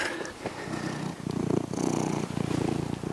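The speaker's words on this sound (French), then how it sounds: "Et il fait ronron." A cat purrs in a steady, rumbling rhythm close to the microphone, with soft breathy cycles and no talking.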